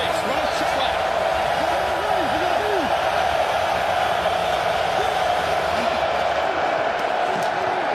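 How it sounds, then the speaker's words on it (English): Loud stadium crowd roaring on third down at an XFL football game between the Guardians and BattleHawks, a constant dense wall of noise with whistles and shouts, under continuous talk. "Crowd loud on 3rd down again."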